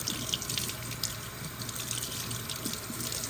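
Tap water runs steadily into a sink while a dissolving embroidery sticker is rinsed away from stitched fabric, a continuous close splashing hiss with no voices.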